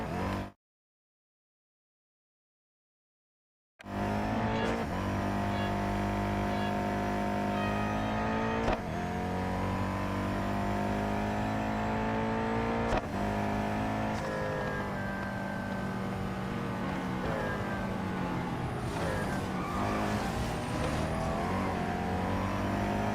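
Race cars in the Real Racing 3 mobile game, a brief silence and then sustained loud engine roar with rising and falling revs as cars accelerate and shift, continuous and close with no talk.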